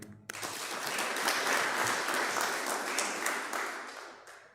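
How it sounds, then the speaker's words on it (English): Audience clapping at a medical association swearing-in and handover ceremony in Uganda, rising quickly into a steady, fairly distant round of applause that holds and then tapers off. "A hand clap for him."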